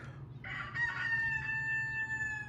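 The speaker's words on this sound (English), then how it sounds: "That rooster." A rooster crows once at close range, a loud drawn-out call with a rising start and long sustained tail over a steady low background hum.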